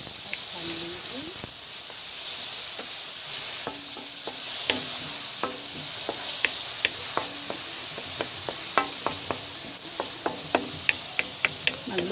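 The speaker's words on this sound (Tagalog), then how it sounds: "Unahin ang sibuyas. Isunod ang bawang. At haluin." Onion and garlic sauté in oil in a pan for pancit bihon, giving a continuous close sizzle and hiss with frequent spatula scrapes and taps as they are stirred.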